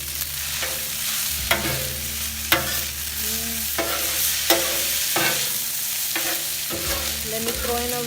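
Kung Pao chicken is stirred as it fries in olive oil on an outdoor griddle: a spatula scrapes in repeated strokes, roughly one per second, over a constant close sizzle, with no talking.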